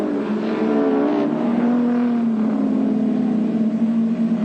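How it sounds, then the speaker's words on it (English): Touring cars race down the back straight at Calder Park during the 1985 Australian Touring Car Championship, including a Volvo. A loud, sustained engine roar holds steady with slight pitch shifts throughout, with no talking. "Coming down the AGC back straight, Robbie Francevic, Jimmy Richards right in behind them."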